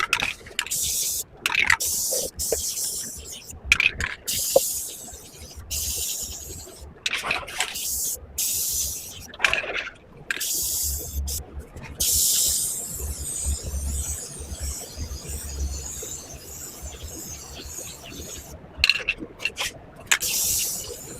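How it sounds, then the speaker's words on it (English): Spray paint hisses in repeated short bursts into the inside of a thrifted Goodwill piece, loud close sprays separated by pauses with handling and scraping noises in between. "So spray painting the inside it is."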